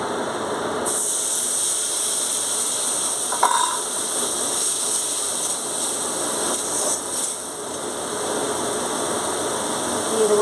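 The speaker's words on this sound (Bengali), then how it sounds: "এবার দিয়ে দেবো বেটে রাখা মশলা।" A ground paste of cumin, coriander, garlic, green chilli and tomato sizzles loudly as it hits fried onions in hot oil for a pomfret curry, with a steady hiss and occasional stirring scrapes throughout.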